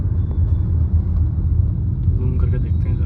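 Traffic at BK Chowk heard from inside a moving car: a steady, loud low rumble of the car and surrounding road vehicles, with faint scattered higher noises from the street near the end.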